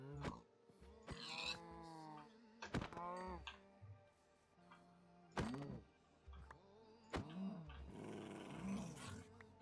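A dog in the Minecraft video game growls in a series of short, separate bursts, some with soft thunks between them, spread across a quiet game scene.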